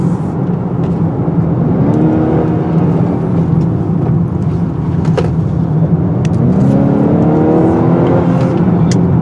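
A 2018 Honda Accord Touring engine revs hard at high RPM from inside the moving car, its loud steady drone rising in pitch in two climbing sweeps, with no talking.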